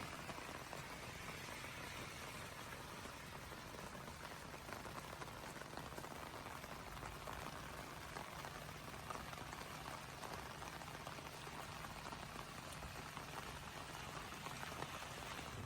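Heavy rainwater pours off one half of a house roof through gutters and downspouts, a constant dense hiss of splashing and falling water, steady and fairly close, with no talk.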